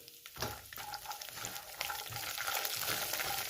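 Peanuts and urad dal fry in oil and are stirred, giving a bright, crackling sizzle that rises after a quiet start and keeps spattering steadily, with no voices.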